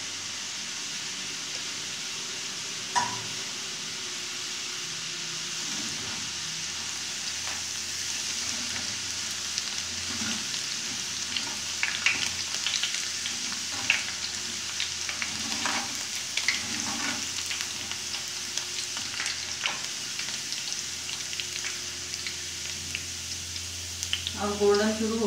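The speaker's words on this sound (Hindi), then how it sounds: "3 मिनट लगेंगे इसको फ्राई करने में" Moong dal frying in foaming hot oil, a continuous crackling sizzle with scattered pops and occasional stirring clinks that grow busier as the cooking goes on, with a faint voice in the background.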